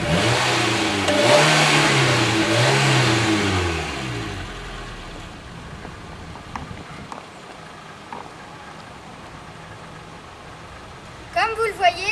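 A car engine revs up and down in about three swelling waves close by, then drops away to near quiet with a few small knocks and a burst of clatter at the end.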